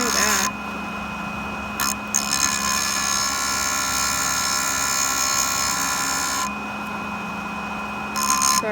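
A JoolTool rotary grinder runs steadily on an enamel inlay set in white gold, a continuous high-pitched whine with faint tonal lines, dipping briefly as the piece shifts, with no talk over it.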